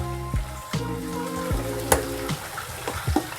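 Vegetables for a momo filling fry in a spiced tempering while their moisture cooks off. A continuous sizzle runs throughout with intermittent stirring knocks, over a faint steady hum.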